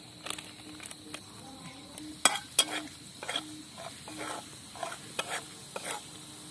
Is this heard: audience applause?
no